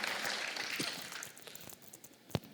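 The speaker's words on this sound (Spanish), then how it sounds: "denle ese fuerte aplauso a Cristo" Church congregation applauding during a sermon: a steady wash of clapping from many hands in a large room, fairly soft and even, with one sharper clap standing out near the end.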